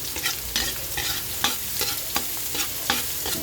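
Garlic sizzles in a little hot cooking oil in a pan while it is stirred, giving a steady crackling fry broken by regular scraping strokes, close up with no talking.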